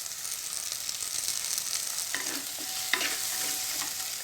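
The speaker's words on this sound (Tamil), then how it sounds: "பச்சை வாசனை போகிற வரைக்கும் நல்லா வதக்கிக்கலாங்க." Masala with turmeric powder and curry leaves sautéing in a pan for Chettinad chicken gravy, a steady broad sizzle with faint spoon stirring scrapes and a few small pops, close and with no talking.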